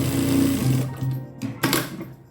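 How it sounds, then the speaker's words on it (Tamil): A sewing machine stitches along the top side of a cloth hook strip in a quick, close, rattling run that slows and breaks into a few short bursts before stopping. "இந்த கிளாத்தோட மேல் பக்கத்தில் வச்சு தைக்கிறேன்"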